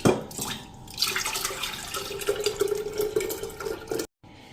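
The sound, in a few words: pouring buttermilk from cream into a jug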